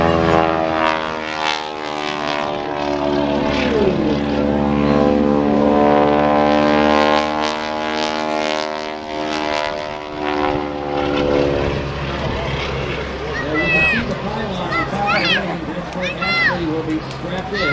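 A propeller aerobatic airplane at an air show flies out and climbs, its engine droning loudly and shifting pitch as it passes and moves away, with a commentator talking over it.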